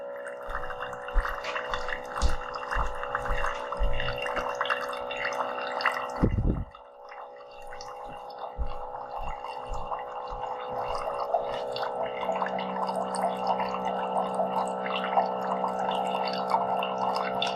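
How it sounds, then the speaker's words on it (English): A Spinn coffee maker rinses its water filter with a steady mechanical hum and faint drips and gurgles, interrupted once by a brief pause, with no talk. "rinsing the water filter, the app says."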